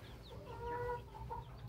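Free-range hens cluck near newly hatched chicks, a few soft drawn-out calls and faint distant peeps over a low rumbling background, no talk.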